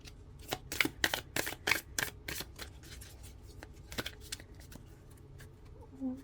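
Tarot and Lenormand cards are shuffled by hand, giving a quick run of crisp papery riffs and taps that thin out into softer, scattered flicks, close-up and quiet with no talking.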